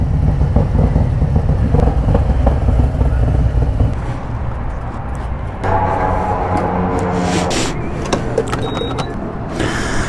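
A 2023 Harley-Davidson CVO motorcycle engine idles loudly and steadily up close in cool air, a deep rumble that softens partway through before holding even, with faint mechanical whirring on top.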